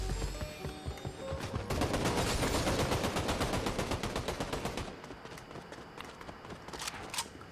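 Video game battle with a grenade blast and gunfire, heard as dense, rapid bursts of shots and impacts, loud and sustained for several seconds before thinning into scattered pops.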